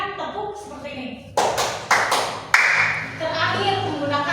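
Hand claps from a classroom clapping game: a few sharp, loud claps spaced about half a second apart, with a teacher's voice talking before and between them.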